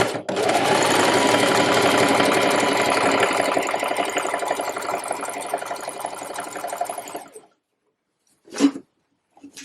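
A sewing machine runs in one long fast continuous stitching burst while elastic is sewn into a trouser waistband, loud and close, then stops, followed by a couple of brief soft handling knocks.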